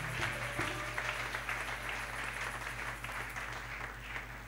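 A church congregation at a family retreat opening service applauds to acclaim the King of Kings, a steady wash of many hands clapping together over a low hum, sustained throughout without letting up.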